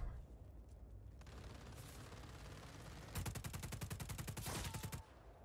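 Rapid automatic gunfire in the Just Cause 4 video game, a sustained burst of dense repeated shots over background game noise, loud and continuous before cutting off.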